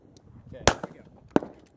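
Pistol shots ring out during long range shooting at a target 240 yards away, two sharp, loud cracks about two thirds of a second apart, heard outdoors.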